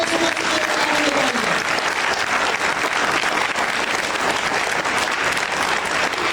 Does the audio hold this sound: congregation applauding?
yes